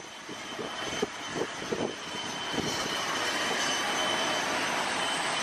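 Jet aircraft at an Oahu airport taking off, heard as a loud, sustained engine roar that swells and holds steady, with a few brief clunks early on and no talking.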